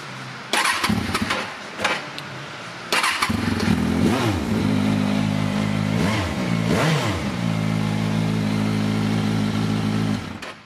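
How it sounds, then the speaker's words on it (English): A motorcycle fitted with an aftermarket exhaust cranks and starts, then settles into a steady, loud idle with several sharp throttle blips, heard close up for about ten seconds. "It's also got an aftermarket exhaust, of which type I can't tell you, but it sounds really good without being too loud."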